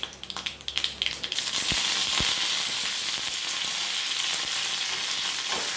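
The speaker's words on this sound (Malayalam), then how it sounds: "കടുക് വറക്കുമ്പോഴും കൂടെ കരിവേപ്പില ഇങ്ങനെയൊന്നും വറുത്തിട്ടാൽ" A few quick crackles and pops give way to a loud, steady sizzle of seeds and leaves hitting hot oil, with occasional sharp spits.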